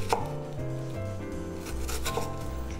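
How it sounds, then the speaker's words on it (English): A knife dices a red onion finely on a cutting board for Korean nachos, with a few sharp chop taps over a steady background of music. "2 tablespoons of finely diced red onion. And then make your cuts like so."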